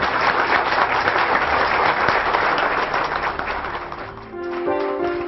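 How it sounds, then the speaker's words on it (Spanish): An audience applauds doctor Mendoza at a Ministerio Público gathering, with dense, sustained clapping from many hands that softens briefly near the end. "Pido un aplauso para el doctor Mendoza."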